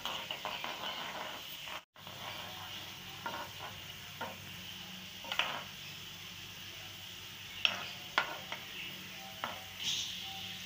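Onions, garlic, cumin and curry leaves frying in a pan for masala khichdi, a steady soft sizzle broken by scattered scraping stirs and a brief drop in the middle, close and without talk.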